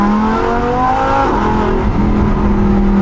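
An Audi R8 V10 Plus engine revs up loudly and close, its rising harmonic whine climbing and holding with a brief dip mid-way, alone without talk.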